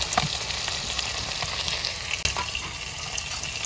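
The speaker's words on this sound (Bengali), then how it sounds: "মশলাগুলো সব একলাগে কষাই নেই।" Ginger, garlic and cumin pastes with ground coriander, nut paste and yogurt fry together in a hot pan, a steady loud sizzle broken by scraping stirs and one brief sharp knock.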